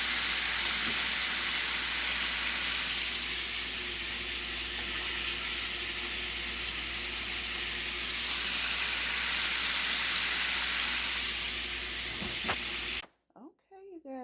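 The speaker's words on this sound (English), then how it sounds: "And then I'm frying chicken." Steady, loud sizzling of chicken frying in a hot pan, a continuous broadband hiss lasting most of the clip before it cuts off abruptly.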